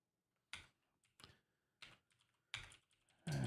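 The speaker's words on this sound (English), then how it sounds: "let's have to type this out" Keystrokes on a computer keyboard during a .NET coding session come in five or six short, sharp bursts separated by pauses, close and clear against near-silence, with no voices.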